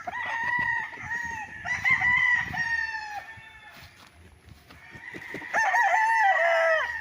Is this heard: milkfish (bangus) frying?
no